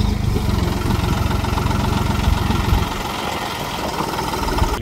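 A tractor engine idles close by with a steady, low rumbling chug that continues throughout without a break.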